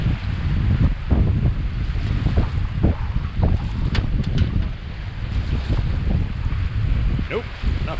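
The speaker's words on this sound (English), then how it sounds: "The waves are coming from two different directions here on the submerged part of the island." Ocean waves meet from two directions over the submerged part of a Gulf of Mexico island, a continuous rumbling wash with wind buffeting the microphone and scattered splashes.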